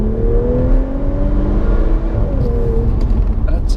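A remapped Audi S5 accelerates around a driveway loop with a loud, steady engine drone and a rising then falling rev tone, heard close from inside the car without speech.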